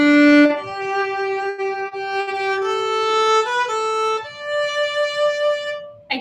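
Violin playing a slow phrase of the Skye Boat Song with vibrato, long sustained notes shifting gently in pitch, close and clear with a brief bright accent at the very end.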